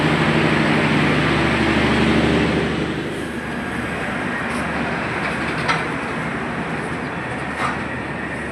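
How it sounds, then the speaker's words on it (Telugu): A train rumbles past at a station, loud and steady at first with a deep low drone, then easing to a softer rolling hiss with faint clanks. "ఇప్పుడు ఆ ట్రైన్ అయినా మనం ఎక్కాల్సింది"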